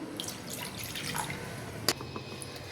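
Water trickles and drips into a jar during pickling of amla with turmeric and salt, a soft, close pouring with scattered splashy drops and one brief sharper clink near the end.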